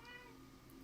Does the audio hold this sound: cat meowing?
yes